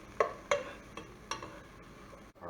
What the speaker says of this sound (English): we're just going to stir that onion into the butter and sort of get it all coated so nothing burns